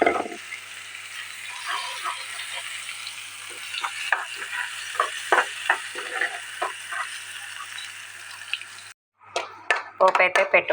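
Ground onion chutney paste sizzles in hot tempering in a pan, a steady frying hiss under ongoing talking, with a brief silence and clattering near the end.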